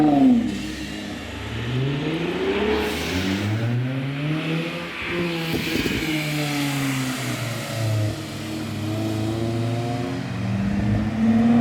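A Toyota JZX100 Chaser's engine revs repeatedly, its pitch rising and falling in sweeping waves, loud and close with the car's steady road hum underneath.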